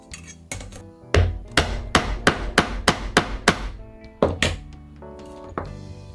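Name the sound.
stamping a leather glasses case with a stamp and mallet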